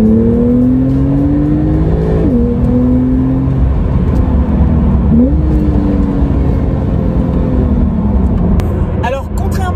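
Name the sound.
Porsche 911 Carrera T engine revving while driving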